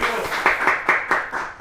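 A small studio audience claps for a guest on a talk show, brief rhythmic applause from a few hands, moderately loud and close.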